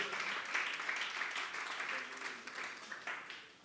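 Steady church congregation applause fills the whole stretch, a dense wash of many hands clapping at moderate distance without a break.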